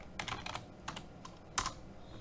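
Quick bursts of keystrokes on a computer keyboard while entering a word into a Python program, soft close clicks in a rapid cluster, a short pair, then a final firmer press.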